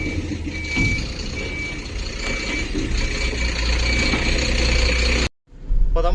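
A truck's reversing alarm beeps in a regular, repeating rhythm over a loud, idling engine as the vehicle turns at a work site after unloading. The sound cuts out abruptly near the end, then the engine rumble returns.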